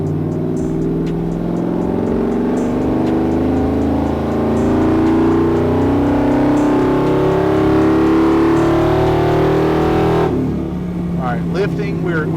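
A cammed, 6.0L-swapped OBS truck with its converter locked pulls hard in third gear on a dyno. The engine roar climbs steadily and stays loud and close for about ten seconds, then drops off sharply as the throttle lifts.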